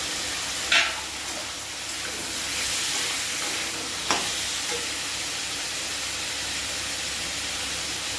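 Vegetables and chicken fry in a pan for a chicken soup, giving a steady broadband sizzle and hiss with a couple of brief sharp clinks of stirring.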